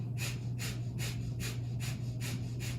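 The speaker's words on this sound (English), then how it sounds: "Breathe in through the nose. Pump the belly with me as we exhale." Fast yoga breath-of-fire breathing, pumping the belly with each exhale, makes about seven sharp, evenly spaced nasal bursts in under three seconds. The breaths are close and steady, with a low hum underneath.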